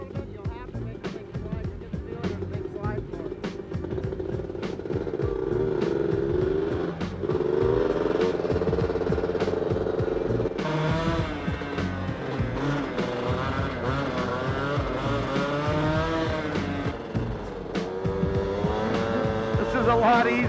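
Motorcycles racing on an ice track in San Diego, engines buzzing and revving steadily and loudly throughout, rising and falling as bikes pass, with voices underneath.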